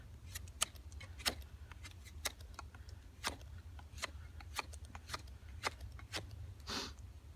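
A Hornet custom knife carves wood in circular cuts. It gives a quiet run of sharp, irregular clicks and scrapes close by over low background rumble.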